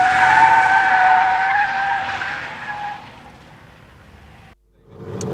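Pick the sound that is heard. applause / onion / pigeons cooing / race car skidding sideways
race car skidding sideways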